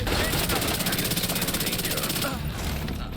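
Automatic gunfire from the video game The Division 2 rattles loud and rapid in a dense, even burst for over two seconds, then stops, leaving a fainter game-background rumble.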